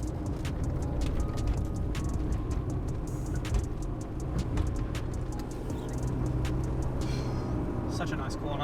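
A manual Nissan R31 driven through a run of corners: steady engine drone and road rumble from inside the car, rising and easing slightly, with someone talking over it.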